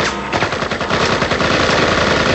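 Rapid automatic gunfire rattles from the PC video game Project IGI as a dense, loud burst of repeated shots with no pauses.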